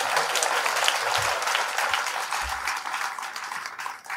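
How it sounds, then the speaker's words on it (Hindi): Enthusiastic audience applause at a Shrimad Bhagwat Katha religious gathering, a dense, steady wash of clapping from a crowd lasting several seconds before tapering slightly, with a few faint voices underneath. "जोरदार ताली बजाएंगे।"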